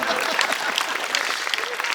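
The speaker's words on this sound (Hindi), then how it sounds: "बजाओ ताली इस बात की" An audience claps together at a Hindi comic poetry gathering, a dense, steady burst of applause from a crowd with voices mixed in.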